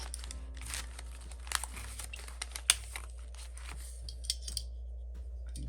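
Scissors snip string for a handmade junk journal, a few crisp close cuts with light rustling of paper and material between them over a steady low hum.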